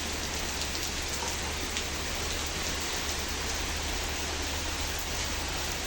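Heavy rain pours down during a dark daytime storm with strong winds, a dense, unbroken hiss of drops hammering surfaces nearby, steady and loud throughout with no voices.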